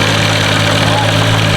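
A Toyota 2JZ inline-six swapped into a Scion FR-S idles just after its first start, a steady, loud, even rumble with a constant low hum and no break.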